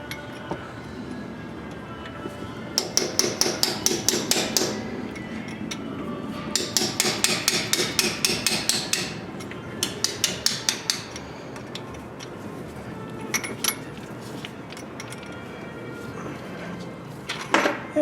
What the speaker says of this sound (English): just grab a chisel and just kind of tap it until it deforms a little bit, and then it just plops right out